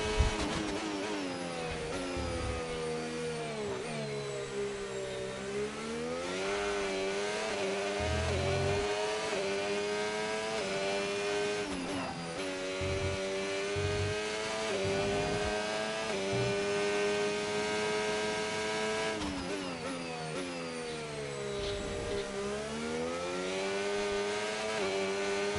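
Formula 1 race car engine in the F1 25 video game, a loud, continuous high-pitched whine that rises and falls through gear changes over a first timed lap, with no talking.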